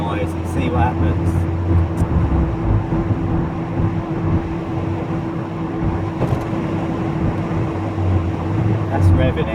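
Worn wheel bearing on an MK3 Volkswagen Golf giving a steady whine while driving, heard from inside the car over constant road and engine noise, with a person talking at times.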